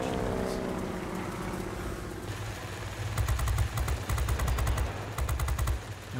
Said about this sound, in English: It's just 250 caliber machine guns. But 250 caliber machine guns, bigger impact than 330 caliber machine guns.